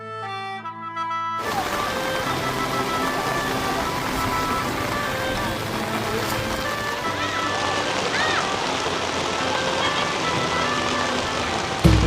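Steady storm rain pours down at an outdoor market in Tha Uthen, Nakhon Phanom, Thailand, in a dense, continuous hiss, with faint background noise throughout.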